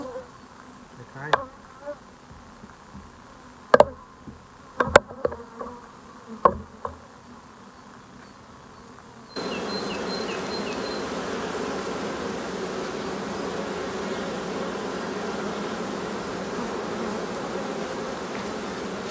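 Steady, dense buzzing of many honeybees and drones at a hive fills the second half after scattered knocks and handling sounds, a continuous close hum with faint higher whines.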